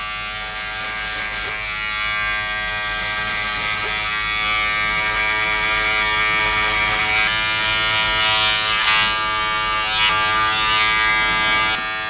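Electric hair clippers fitted with a guard cutting through long, three-year-grown hair, a loud steady close buzz that runs without pause and shifts slightly in tone as the blade works through the hair.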